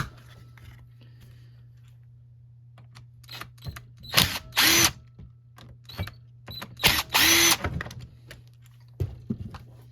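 Carburetors being taken off two Craftsman MTD 25cc string trimmers on a workbench, with a few short bursts of a powered driver and scattered small clicks and rattles of parts over a steady low hum.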